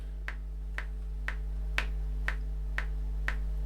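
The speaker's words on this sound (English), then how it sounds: "I have it in 4/4, which is going to be the standard, so you hear like a higher pitch on the 1" A metronome set to 4/4 clicks steadily at about two beats per second, with a higher-pitched click on beat one. The sharp ticks are close and distinct over a constant low electrical hum.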